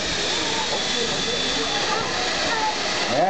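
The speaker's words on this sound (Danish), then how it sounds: "Ja, det damper lidt, men..." A steam train at a railway museum gives off a steady, loud hiss of escaping steam. The broad rushing sound stays constant and close for the whole moment.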